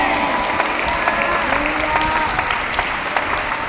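A church congregation claps steadily, a dense even wash of applause with scattered sharp claps and faint crowd voices, sustained without a break.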